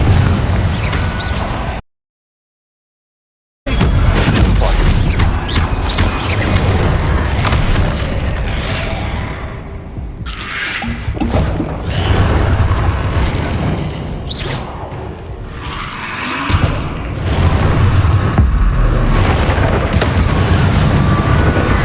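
Repeated heavy explosive blasts from the Confringo spell in Hogwarts Legacy, loud booming bursts layered with whooshes and combat noise, continuous apart from a brief silent gap near the start.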